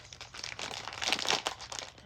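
Crinkly tearing of Labubu blind box packaging from Pop Mart, a brief close rustle of paper and plastic being ripped open, quiet and with no talking.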